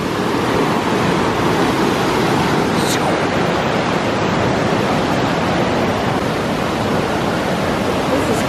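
A waterfall at Canyon Falls roars as a steady, loud, dense wash of falling water, continuous and close throughout with no breaks.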